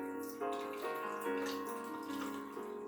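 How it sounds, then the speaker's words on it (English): Running water from a tap splashes steadily for a few seconds while shaving suds are rinsed off, close and continuous with no talk. "Let's wash the suds off."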